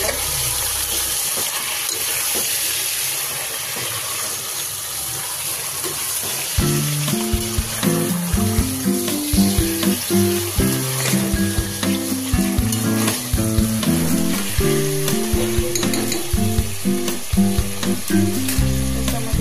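Mutton masala sizzles and fries in a pan while a spoon stirs it, starting with a steady hiss and then turning into repeated scraping and clattering stirs over constant loud frying, heard up close.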